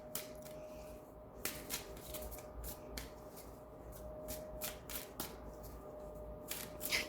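Tarot cards are shuffled and riffled by hand at a quiet reading table, with soft papery flutters and sharper snaps recurring irregularly over a low background hum.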